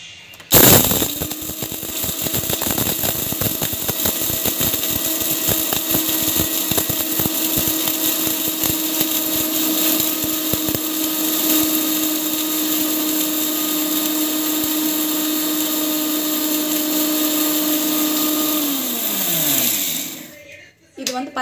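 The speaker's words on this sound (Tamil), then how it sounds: "மிக்சியில் போட்டு ஒரு ஃபைனான ஒரு பொடியாக ஆட்" A kitchen mixer grinder grinds hair-pack ingredients into fine powder, spinning up from a sharp start into a loud, steady whine with a rattling grind beneath, close by, then winding down near the end.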